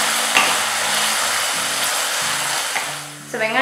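Sliced onions fry in oil in a pan for tomato salna, giving a steady, close sizzle under soft background music, with a brief stirring clatter near the end.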